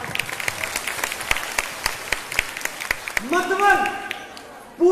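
An audience at an anniversary program in a hall applauds, with a burst of clapping under a loud voice and a rising tonal sound near the end.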